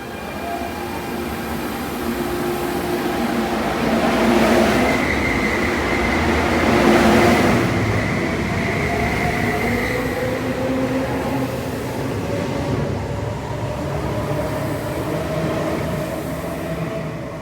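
An Airport Express train rushes past close by at Sunny Bay Station, its rumble swelling and fading with tonal whines and faint wheel squeals, no voices over it.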